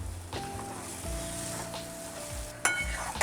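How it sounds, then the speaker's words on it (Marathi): Masala roasting in oil in a kadhai on a low gas flame, a steady close sizzle with soft stirring scrapes, a brief sharper clatter near the end and no voices. "बारीक गॅसवर भाजून घेऊ आपण मसाला"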